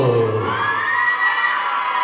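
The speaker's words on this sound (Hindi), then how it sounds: "तो एक बार जोरदार तालियां हो जाए," Wedding sangeet crowd cheering and shouting loudly at close range, a dense burst of voices with whoops that holds steady for about two seconds, with no distinct clapping standing out.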